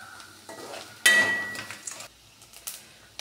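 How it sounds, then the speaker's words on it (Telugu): Grated coconut cooking in a pan for coconut fried rice, with soft stirring scrapes, a sharp utensil clatter near the middle and faint background sizzle, close and fairly quiet throughout. "ఇట్లా ఈ కొబ్బరి కొద్దిగా మగ్గాలి"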